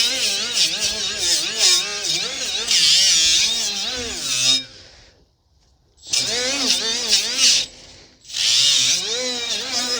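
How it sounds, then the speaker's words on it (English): A power sander whirs close by, lightly sanding a front brake rotor on a 2019 Honda Civic 2.0, in two long bursts separated by a brief silence, its pitch wavering as pressure changes. "Probably just gonna do a light sanding, very light sanding, just on the front of the rotor"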